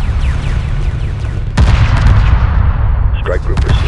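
Spaceship weapons fire in the space strategy game Homeworld 2, a dense rumbling barrage that jumps in intensity with a sudden loud blast midway, then continues as sustained booming gunfire with faint voice-like chatter late.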